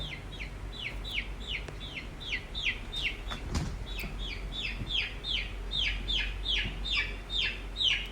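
Chickens recovering from a cold with swollen faces cluck in a steady series of short repeated calls, fairly close, over a low background hum.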